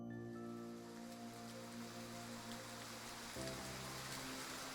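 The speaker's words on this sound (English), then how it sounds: "At some point, it started raining again. The pitter-patter creates a delicate rhythm against the window frame." Steady rain patters against a window frame, a soft, even wash of drops that carries on with no gaps. A low sustained tone sits beneath it and shifts slightly partway through.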